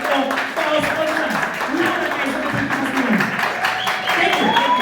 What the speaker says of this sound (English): Give a round of applause for our sponsors.